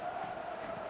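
Stadium crowd in a PS3 football game featuring Real Madrid, a steady, distant roar of massed voices with a sustained chanting tone, no commentary over it.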